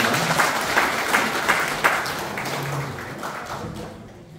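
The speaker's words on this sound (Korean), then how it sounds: "박수 부탁드립니다." An audience at a community award ceremony claps steadily, a dense even patter that fades toward the end.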